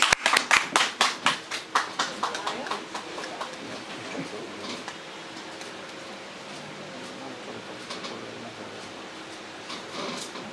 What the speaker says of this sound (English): Round of applause for the National Bank.